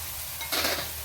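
Onions fry in a pan as salt is sprinkled over them, a short close sizzle that briefly swells with a stirring scrape, no voices.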